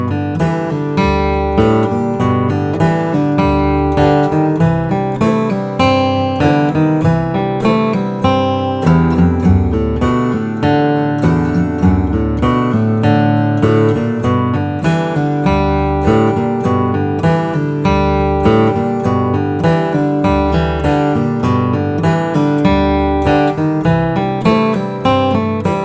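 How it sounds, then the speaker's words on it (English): Bluegrass guitar lead lines played over a strum machine backing track, with steady rhythmic strumming and picked melody running continuously and loudly throughout without any talking. "let me go ahead and play all 4 of those along with the strum machine"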